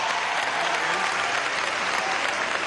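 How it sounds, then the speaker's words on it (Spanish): Steady, dense applause from a crowd at a Venezuelan medical graduation ceremony, continuous clapping at even loudness throughout with no pauses. "Un aplauso, vale."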